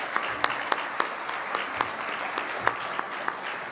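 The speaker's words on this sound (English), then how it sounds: "So one more round of applause." A round of applause from the audience at a regional science and engineering fair awards ceremony, steady mid-level clapping with a few sharper claps standing out, no voices over it.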